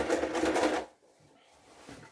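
A sewing machine stitches the seam of a formal cocktail jacket, a dense close whirring burst for under a second that then cuts off, leaving quiet room tone.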